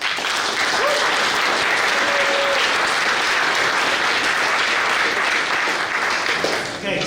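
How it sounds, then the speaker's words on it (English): A conference audience claps in a sustained round of applause, dense and steady, close and loud, tapering off slightly at the very end. "a big round of applause for those guys as well, please"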